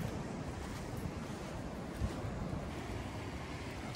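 Sea water washes over rocks on a beach in São Sebastião, Brazil. A steady, faint rushing of surf mixes with wind noise on the microphone, with no voices.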